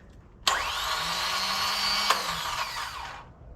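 The starter motor of a hot rod V8 spins the flywheel in one close, loud whirring whine that holds for about three seconds, then winds down and stops.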